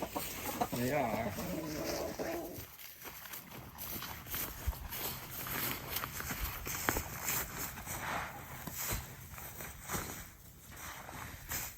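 Chickens clucking outdoors at a woodland homestead amid steady background noise, with people talking at moments over the birds.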